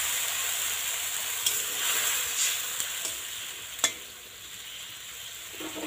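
A curry of data (drumstick) stalks and jackfruit seeds, seasoned with salt, being stirred and fried in a pan: a steady sizzle under scraping stir strokes, with a few sharper clinks from the spoon, and no talking.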